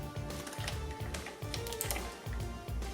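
A rapid series of clicky keyboard taps and clacks from an MSI Vigor GK50 Low Profile keyboard as a keycap is snapped back on, close and steady, with a few sharper snaps mixed in.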